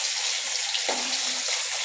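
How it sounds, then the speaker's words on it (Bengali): Fish frying in oil in a home kitchen pan, a steady close sizzle with a brief louder crackle midway, no talking. "দেখো, মাছটা ভাজা ভাজা হচ্ছে"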